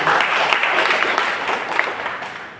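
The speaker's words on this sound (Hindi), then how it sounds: "चलो बहुत बड़े जोरदार ताली हमारे नए साथियों के लिए।" Audience in a hall clapping loudly and steadily to welcome new members, a dense burst of applause that runs throughout and tapers slightly at the end.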